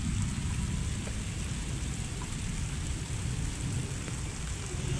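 Rain falls on a mud house with a dense, steady hiss and patter, a constant close wash of drops without pauses and no voices.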